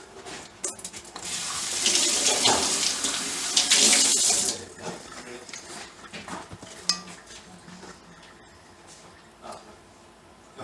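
Tap water runs steadily into a sink as food is rinsed during lasagna prep, a loud splashing rush for a few seconds that then eases off, followed by softer drips and light kitchen clatter.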